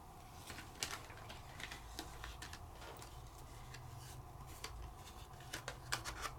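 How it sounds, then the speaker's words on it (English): Paper being scored with a scoring kit while making a greeting card, faint scratchy ticks and light clicks scattered unevenly through quiet room noise. "Again, just scoring your paper and using the kit."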